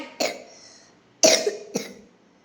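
A small child with an allergy-related cough and phlegm coughs three times, sharp and close, the last two in quick succession, with quiet pauses between.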